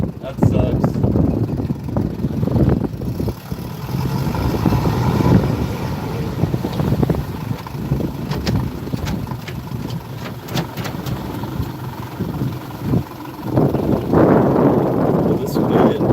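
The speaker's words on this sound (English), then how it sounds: "Well, this wind sucks." Wind buffets the microphone on a fishing boat out on open water, a loud continuous rumble with gusty surges. Voices talk over it in places.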